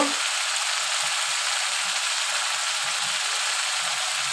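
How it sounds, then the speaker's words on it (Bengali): Ground spices, turmeric and chili powder, fry steadily in hot oil in a pan for a shrimp curry, giving a constant, close sizzle with faint stirring scrapes and no voices. "এবার আমি ভালো করে কষিয়ে নেব।"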